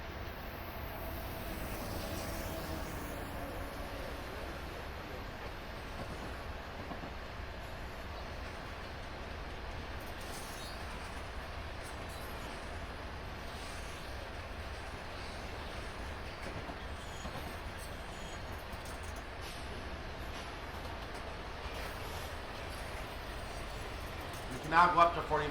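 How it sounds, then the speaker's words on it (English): A westbound freight train of hopper cars hauled by an SD70M locomotive passes on Sherman Hill, a steady loud rumble of wheels and rail noise filling the whole stretch, with a voice speaking over it. "What is this train coming up? Westbound Hoppers, SD70M."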